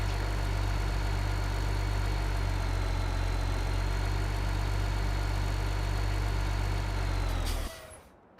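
A small video-game tractor engine in Farming Simulator idles steadily at a low, even rumble for most of the clip, then cuts off abruptly near the end, leaving silence.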